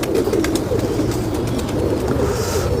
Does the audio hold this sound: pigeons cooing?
yes